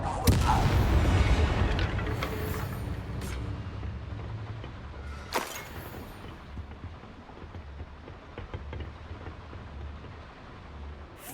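A Confringo fire-blast spell in Hogwarts Legacy bursts with a loud boom at the start, then a second sharp blast lands midway, each fading into low rumbling game ambience.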